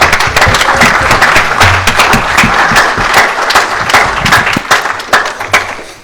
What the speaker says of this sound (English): Let's give our debaters another round of applause.